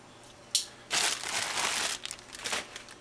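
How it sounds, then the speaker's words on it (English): Plastic wrap being cut and pulled off a Vance & Hines Fuelpak 3 box with a knife: a sharp snick, then about a second of loud crinkling and tearing, then a few shorter rustles, close and quiet. "take off this plastic wrap."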